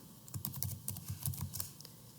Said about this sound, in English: Okay, so I'm going to type climate,